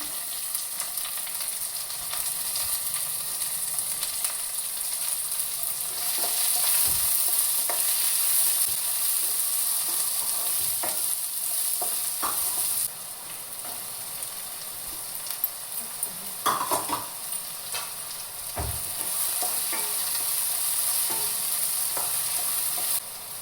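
Onions frying in a pan, a steady loud sizzle throughout with occasional scraping knocks of a spoon stirring them.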